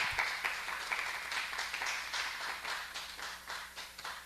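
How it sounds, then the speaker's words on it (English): People at a hybrid educators' workshop applaud a panel, a fairly faint, steady patter of many hands clapping at moderate distance that continues for several seconds. "Just give them a big round of applause."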